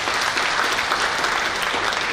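A room full of people applauds Dr. Edi at a business presentation, a steady, dense wash of clapping that holds for a couple of seconds with no voices over it.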